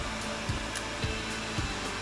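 A ZOOZEE Z70 robot vacuum and mop running indoors, a steady whirring drone with faint regular ticks about every half second, no voices.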